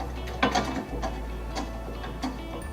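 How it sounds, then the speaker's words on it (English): A Phillips screwdriver tightens a screw on a full-motion articulating TV wall mount, giving a series of light, close ratcheting clicks and small metallic ticks spaced through the clip under a steady low hum. "You're going to use your Phillips screwdriver and just secure it on there."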